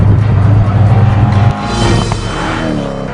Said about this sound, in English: the engine's got a great visceral growl to it. You know, you can hear the mechanical parts moving